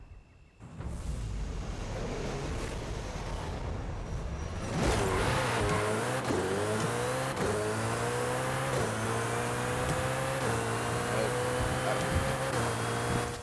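A Koenigsegg Jesko in the Forza Horizon 5 racing game revs hard with a loud, steady engine tone that steps through quick gear shifts, each change briefly dropping the pitch before it climbs again.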